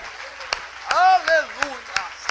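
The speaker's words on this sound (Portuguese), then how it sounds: "Aplauda Ele e glorifica o nome dEle." A church congregation claps in a steady rhythm during a worship service, sharp hand claps spaced through a short stretch while a voice speaks and sings loudly over them.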